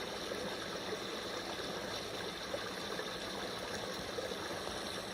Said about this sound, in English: This brook is the pulse of the forest.